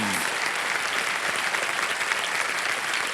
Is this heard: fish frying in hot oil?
no